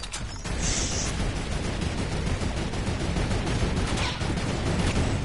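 Rapid automatic turret fire in a multiplayer shooter game, a dense, continuous stream of loud gunshots rattling steadily for several seconds with a brief gap near the start.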